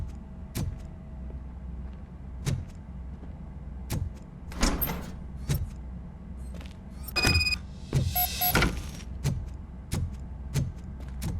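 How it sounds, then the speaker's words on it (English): A door opening in the game Robocop: Rogue City, heard as a mechanical clunk and whirring slide with a few electronic beeps, amid repeated sharp footstep-like thuds over a low ambient hum, no talking. "Now let me get that door open for you."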